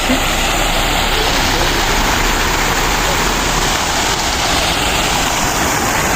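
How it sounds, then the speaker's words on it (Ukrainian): A town square fountain in Kolomyia, Ukraine, splashes in a steady, broadband rush, loud and unbroken throughout, with no distinct voices standing out. "Фонтан словнозвісний на площі."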